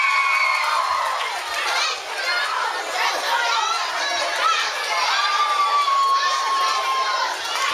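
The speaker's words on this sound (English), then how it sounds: "give yourselves a round of applause for him." A crowd of Florida students cheers and shouts loudly and without a break at a school assembly, with children's voices yelling and calling over a continuous wall of noise and no clear claps standing out.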